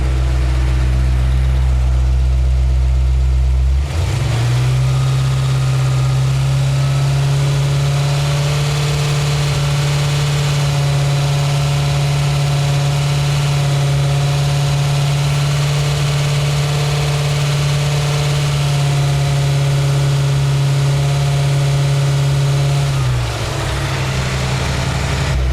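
A Ford 5.0L OHV V8 swapped into a Fox-body Ford holds a steady raised speed of about 2,000–3,000 RPM, a loud, even drone that settles down at the very end, with no talking.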